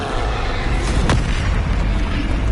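Bombarda explosion spell cast in the Hogwarts video game, a single booming blast with a sharp burst near the middle over a dense, continuous roar of game noise.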